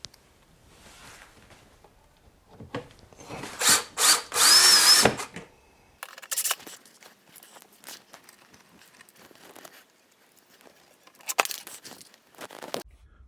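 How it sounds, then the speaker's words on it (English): A power drill drives screws into an arcade cabinet while the LED marquee upgrade kit is fitted, giving loud close bursts of whirring with short pauses, followed by scattered handling knocks and one more brief burst. "let's go ahead and screw in the 4 screws on this side."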